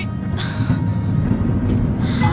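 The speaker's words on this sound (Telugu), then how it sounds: "ట్రైన్ మూవ్ అవుతుంది" A train rumbles along the rails with steady low clatter and a few faint high squeals, continuous and fairly close, no voices.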